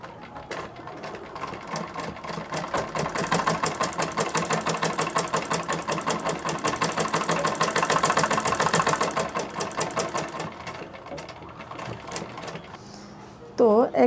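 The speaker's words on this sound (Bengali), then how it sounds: "এখানে একটু চিকন করে একটা সেলাই করে দিব" A sewing machine stitches a thin seam on crochet sleeves, running in a fast, steady mechanical patter that builds louder midway before slowing and stopping, with a clunk at the end.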